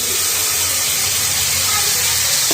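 A coconut, tomato and green chilli paste hits a hot pan of fried onions, giving a loud, continuous hissing sizzle heard close up and alone throughout.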